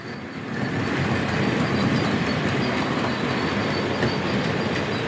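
A model train on a model railway runs over track grids and signal warning sections, a loud continuous rolling clatter with wheel squeal close by, no talking.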